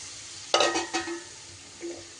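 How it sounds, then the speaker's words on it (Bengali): Boiled lentils splash into a hot pan of radish and flat beans, followed by a couple of wet stirring scrapes over a soft, steady sizzle, heard up close. "এইবার আমি সিদ্ধ করে রাখা ডালটা দিয়ে দেব।"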